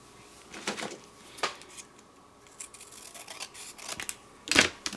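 Scissors trimming stamped cardstock make a few sharp, separate snips spread across a quiet room, with light handling rustles between the cuts.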